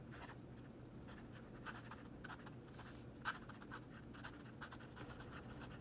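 A Sailor 1911 fountain pen nib scratches softly across paper in continuous writing strokes, a faint, textured, close-up rasp with small bursts as letters form, and no talking.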